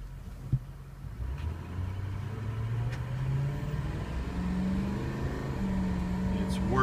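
A Ford 6.0 diesel truck engine with a bad ICP sensor starts and runs, a steady low rumble that builds slightly with a faint click near the start and a voice speaking briefly over it.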